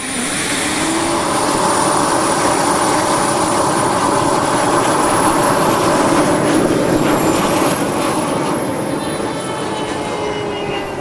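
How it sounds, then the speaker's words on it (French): A Sukhoi 27 RC model jet with a thrust-to-weight ratio above one roars through its takeoff, a loud continuous turbine whine with a rising high-pitched tone sweeping up and then settling, steady and powerful throughout. "on a enfin pu assister au décollage absolument somptueux de cet avion"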